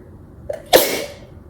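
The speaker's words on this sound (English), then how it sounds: "I want to sneeze." A single close sneeze with a short quick inhale, then a sharp breathy burst that fades out.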